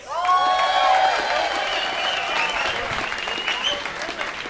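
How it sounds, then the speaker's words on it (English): A comedy club crowd in Sarasota applauds loudly with scattered cheers and whoops, the clapping steady and dense before tapering slightly toward the end. "make some noise for Will Krolowitz."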